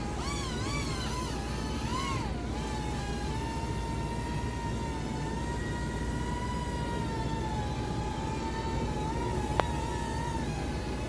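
Syma RC toy helicopter lifting off and flying near the microphone, a continuous high rotor whine with wavering pitch throughout.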